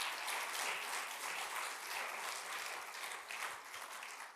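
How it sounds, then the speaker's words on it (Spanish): An audience applauds steadily at a Christmas church service, a dense wash of clapping that stays fairly even and then tapers slightly toward the end, heard alone without talk. "Un aplauso muy grande por esto."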